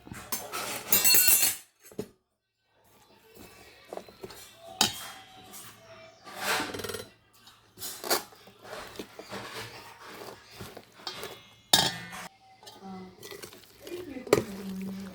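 Mango pieces are tossed with salt and ground spice paste in a dish, with scattered close clinks and scrapes of a utensil against the bowl coming in irregular bursts while someone talks.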